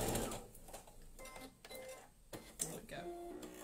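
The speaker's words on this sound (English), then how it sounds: "So I'm just sewing this little strip in between the two calico stripey strips." A domestic sewing machine stitches a narrow fabric strip between two striped calico strips, its whirring motor running in short bursts with pauses, close and moderately loud, while someone talks over it.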